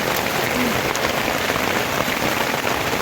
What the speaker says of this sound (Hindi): बहुत तेज बारिश हो रही है, अंदर ओले पड़ रहे हैं।